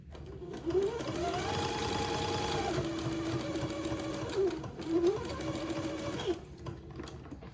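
Sewing machine running a zigzag stitch beneath a pleat on a daygown, a close, continuous whirring hum with brief speed changes and pauses in rhythm, no talking over it.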